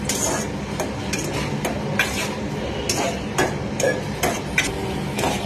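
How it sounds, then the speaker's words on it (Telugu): Raisins and cashews fry in ghee over a medium flame, giving a steady close sizzle punctuated by repeated scraping and clinking of a spoon stirring the pan. "కిస్మిస్, జీడిపప్పు ఇందులో వేసుకొని మీడియం ఫ్లేమ్లో లైట్ గోల్డెన్ కలర్ వచ్చినంత వరకు ఫ్రై చేసుకుందాం"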